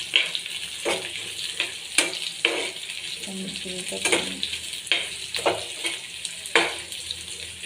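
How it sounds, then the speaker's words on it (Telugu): Onions and tamarind sizzle steadily in a hot pan while a utensil scrapes and stirs in repeated sharp strokes. "ఆనియన్స్ వేయించుకోవాలి దాంట్లోనే చింతపండు చింతపండు కూడా వేయించుకోవాలి"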